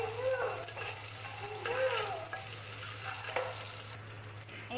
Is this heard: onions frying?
yes